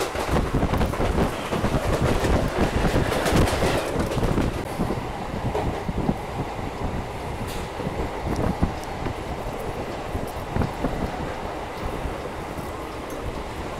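A local MEMU train runs at night through West Bengal between Ranaghat Junction and Dum Dum Junction, heard from inside as a loud, continuous rumble and rattle with steady wind rush and no voices.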